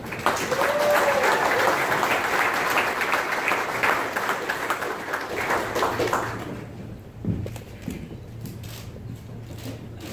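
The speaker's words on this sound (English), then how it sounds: "I'd like a big round of applause for the current WBA super bantamweight champion, Daniel Roman." Press conference audience applauding a WBA super bantamweight boxing champion: dense, steady clapping from a room crowd that holds strong for about six seconds, then thins and fades into quieter room noise with a few scattered claps.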